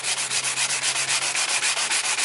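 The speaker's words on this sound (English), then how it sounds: "Still just moving up the flute, sanding with light pressure." Sandpaper rubs along a PVC flute in quick, even strokes under light pressure, about eight rhythmic passes a second, close and alone without any voices.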